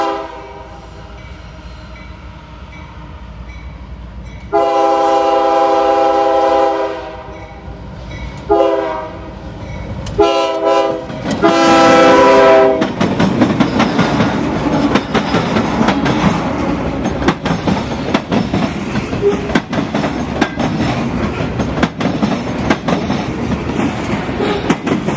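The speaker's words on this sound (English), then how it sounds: "This is another day and another juice train." A freight juice train on the former Seaboard Air Line railroad at Lacucci Siding sounds its horn in several long blasts, then the cars roll by close and loud with continuous clickety-clack and rumbling wheels.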